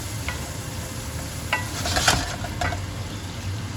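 Onions frying in a hot pan in a home kitchen during a risotto and steak meal, a steady close sizzle with a few scraping stirs and light clinks, no talk.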